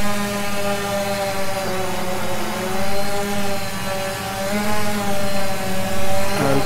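DJI Phantom quadcopter fitted with landing gear skids, its rotors whining steadily with a sustained buzzing hum that rises and falls slightly as throttle changes, close by and with no talk.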